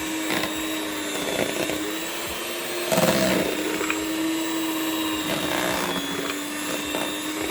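An electric mixer whirs continuously while whipping stiff pastry cream for a watermelon cake, a steady close motor hum with slight surges as the beaters move through the cream.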